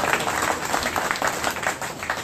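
An audience at a red snapper fishing meeting applauds, a dense, continuous wash of clapping from a moderate-sized crowd in a room, steady throughout.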